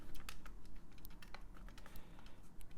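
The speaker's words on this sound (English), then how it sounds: "These keys feel like they are not keys at all." Keys being pressed on an old Russian calculator give a quick, irregular run of sharp plastic clicks, close and fairly quiet, with no voices.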